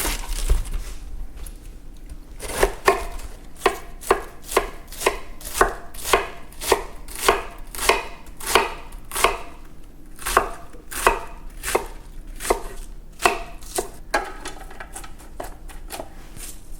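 Knife chopping vegetables on a cutting board in a home kitchen, a steady run of crisp, evenly spaced chops close by, about twenty strikes in quick succession with brief pauses, no talking.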